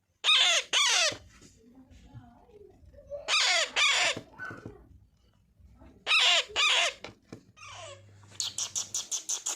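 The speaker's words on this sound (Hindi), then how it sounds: "मुर्गा" Rooster crowing three times in clear, loud bursts spaced a few seconds apart, with a softer rhythmic clucking series at the end and quiet background sounds between calls.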